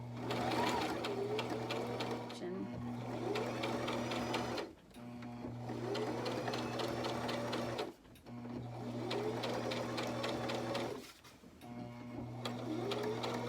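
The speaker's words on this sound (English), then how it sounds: "I'm just basically sewing this together" Sewing machine stitching a fabric face mask in four steady bursts of rapid mechanical whirring, separated by short pauses, with a constant hum underneath and no talk.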